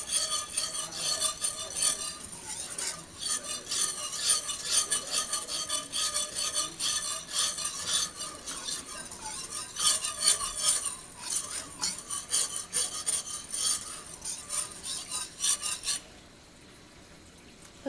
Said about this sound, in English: you can add your half cup of heavy whipping cream and just whisk that all